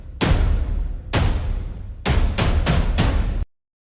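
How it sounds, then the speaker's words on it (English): Massive drum hits from an epic film score: six booming, reverberant impacts, two spaced slowly and then four in quicker succession, loud and alone before a sudden cutoff. "Then I played in these massive drum hits."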